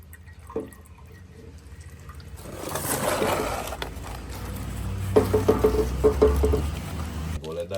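Engine oil drips from a Kawasaki Z800 motorcycle during an oil change, a run of small rhythmic patters and trickles near the end under a rising background wash, with a person speaking.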